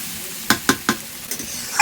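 Spiced potatoes frying in a pan hiss sharply as water is poured in, a few short loud sizzling bursts in quick succession over a steady low frying crackle.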